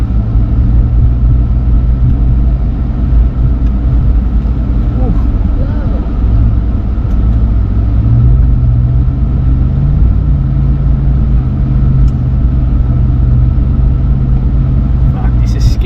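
4x4 vehicle in low range with tyres let down driving onto a beach, a steady loud low engine rumble and drone throughout, with no talk heard.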